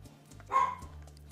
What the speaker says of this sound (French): Sergio, mon petit chien, il dit oui